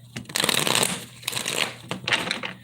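Tarot cards are shuffled by hand close up, a series of crisp papery riffling bursts with brief pauses between them.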